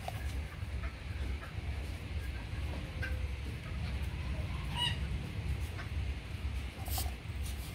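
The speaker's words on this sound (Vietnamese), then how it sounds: "gà đang thả nha" Free-range chickens give scattered soft clucks and a few brief calls over a low rumbling outdoor background, moderately distant.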